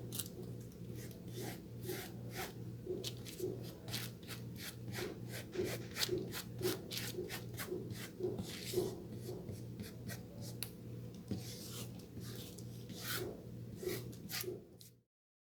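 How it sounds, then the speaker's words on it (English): A spreader drawn lightly over fabric, working acrylic paint across it in steady repeated scraping and rubbing strokes, close and fairly quiet, with no one talking, ending abruptly. "now we're gonna use our spreader and lightly spread this all over our fabric"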